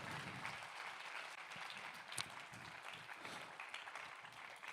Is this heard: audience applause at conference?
yes